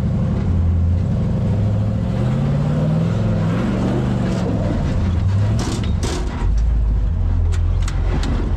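An off-road rig's engine growls and revs while crawling up a rock ledge on a trail, the pitch rising and falling under throttle, with scraping clunks near the end.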